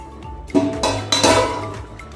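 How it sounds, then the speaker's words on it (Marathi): A metal lid is set on a pot of boiling carrots, giving a couple of close, sharp clinks and a brief rattle over a low bubbling hiss. "तर हे आता आपण ह्याच्यावर झाकण ठेवून"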